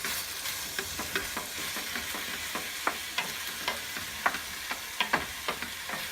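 Peppers, scallions and bamboo shoots are stirred as they fry in a pan, with a soft sizzle under scattered scraping taps of the utensil and no talking.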